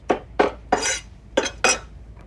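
A knife roughly chops flat leaf parsley on a board, giving five crisp, separate knocks in an uneven rhythm, close and clear, with no voices.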